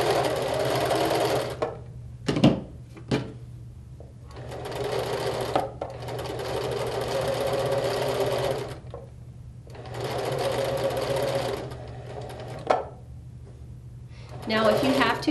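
A sewing machine stitches pieces of fabric together in several bursts of steady whirring separated by pauses, with a person speaking in the gaps.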